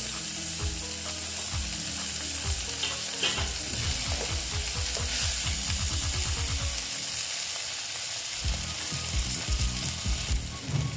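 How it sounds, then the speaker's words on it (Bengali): Tomato tossed into onions frying in a pan, with a steady, close sizzle and repeated stirring or scraping strokes in a rhythmic run, no talking. "পেঁয়াজটা প্রায় ভাজা ভাজা হয়ে এসছে এবার আমি টমেটো দিয়ে দিলাম"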